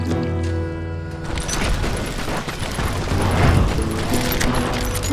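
Gunfire in a Wild West shootout from the Call of Juarez: Gunslinger video game, a dense barrage of sharp shots and heavy booms that builds over several seconds amid a tonal music bed, with no talking.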